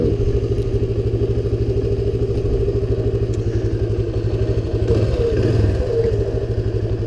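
A 1978 Honda XL175 motorcycle idles steadily close by, its small single-cylinder engine keeping up an even, rapid putter with faint mechanical clatter and no revving.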